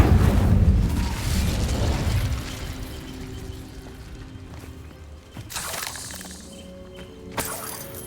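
The Incendio fire spell is cast in Hogwarts Legacy, giving a loud roaring burst at the start that fades. Later, sharp crackling blasts and impacts follow during a fight with a giant spider.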